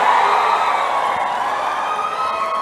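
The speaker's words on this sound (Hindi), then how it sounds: "ताली बजाओ भाई काका के लिए मुझे" A dense crowd at a political campaign rally in Sangli cheers and roars loudly and continuously, with a few high whoops or whistles carried in the din.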